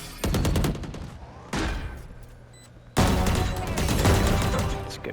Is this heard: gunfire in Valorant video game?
yes